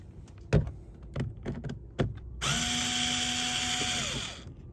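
A few sharp clicks and taps precede a power drill with a Torx bit spinning up to back out screws from a Ford Fusion door, its whirring motor running close and steady for about two seconds before winding down.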